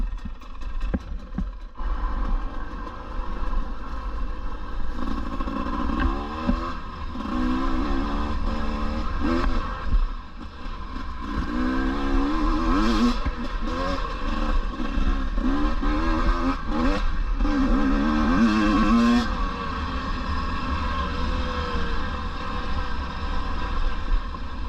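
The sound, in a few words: KTM 250 EXC motorcycle engaging the clutch and pulling away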